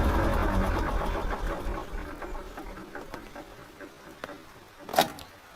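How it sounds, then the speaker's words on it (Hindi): A tractor engine is shut off by pulling its red stop switch; the low rumble gradually dies away, followed near the end by a sharp click. "ये जो रेड स्विच जो यहाँ पे रहता है इसको हमें बस खींच लेना है"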